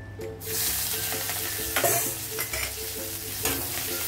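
Onions going into hot oil already holding red chilli, small cardamom and cinnamon, with a loud steady sizzle and occasional stirring scrapes throughout.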